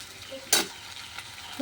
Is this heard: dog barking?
no